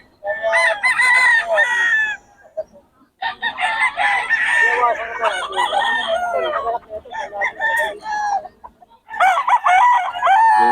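Several roosters crow loudly and close by, one after another in long drawn-out calls, with brief pauses and some clucking between them.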